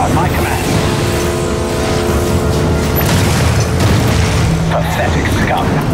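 Main turret cannons fire in a strategy video game, loud booming blasts over a dense rumbling battle bed, with game voices speaking.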